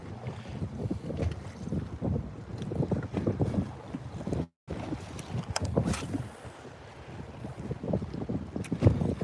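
Wind buffeting a microphone on a bass fishing boat with a 250 horsepower motor during Hurricane Milton weather, a steady low roar in gusty surges with one brief dropout midway.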